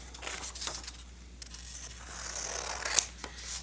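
Scissors cut apart a paper frame for a kindergarten center activity, with a few close, quiet snips and papery crinkles scattered over a few seconds and no talking.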